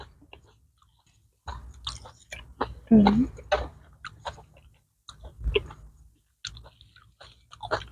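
Crunchy bitter mushroom salad with mixed vegetables being chewed close up, wet crisp bites coming in bursts with pauses between, and a voice talking briefly in between.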